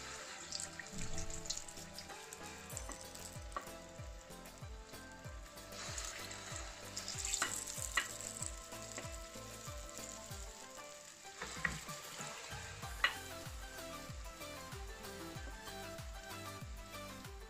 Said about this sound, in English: as you can see, my akara is cooking.